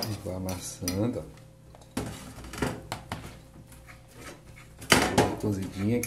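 Glass dish clinks and scrapes as cooked, unsalted cassava is mashed, with irregular bursts of tapping and a voice talking between them.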